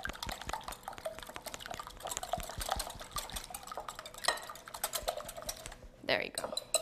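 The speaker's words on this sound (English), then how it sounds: "So now that you got all your liquid ingredients, you want to whisk." A whisk clatters rapidly in a bowl, beating eggs and liquid ingredients until smooth, a busy stream of quick clicks and taps that quiets briefly near the end before a few louder knocks.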